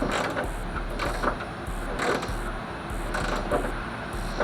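Tightening a third brake light fitting on a Dodge Charger gives repeated creaking, ratchet-like clicks in short bursts, fairly close and steady, with no talking.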